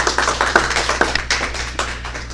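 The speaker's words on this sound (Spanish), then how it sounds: "Un aplauso para la doctora." Audience applause for a doctor at the close of a conference talk on gender violence: a dense patter of clapping hands, fairly close and steady, with sharp individual claps standing out and no talk over it.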